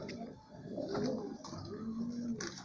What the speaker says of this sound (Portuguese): E ali tá pombal que eu vou soltar os pombos agora aí, ó.